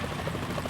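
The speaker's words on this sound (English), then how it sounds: "Is that a chopper I just heard?" Helicopter rotor noise from the video game Metal Gear Solid 2 sounds as a steady, fairly faint thrum throughout a brief moment, without any talk.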